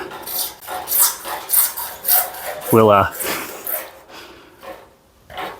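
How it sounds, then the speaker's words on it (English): Rhythmic rasping strokes of a hacksaw cutting, back and forth at a steady pace, close by, with a brief metallic clunk midway. "I hate cutting with hacksaws"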